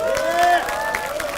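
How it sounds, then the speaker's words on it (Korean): A brief burst of crowd applause and cheering at a political rally in Gumi, with voices calling out and clapping layered together, close and loud. "박수 한번 주십시오"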